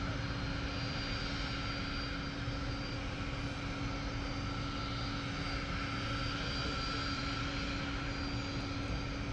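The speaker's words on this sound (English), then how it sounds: "got a little private jet taxiing itself around there as well" Private jet taxiing at London Luton Airport, a steady distant whine and rumble of aircraft engines with a constant tonal hum, unbroken and fairly faint throughout.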